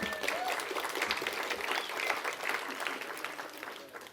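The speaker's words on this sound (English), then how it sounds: "Let's give a round of applause here." An audience gives a round of applause for a volunteer at a solidarity and justice gathering, a dense, even clapping from many hands that tapers slightly toward the end.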